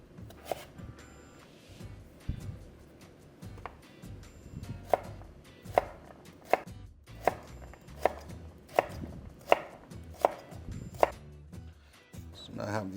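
Knife chopping food into cubes on a cutting board, a run of roughly a dozen crisp, evenly spaced close thuds that speed up slightly before trailing off.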